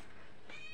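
A hungry house cat meows once, briefly and faintly, close by with a quiet room behind it.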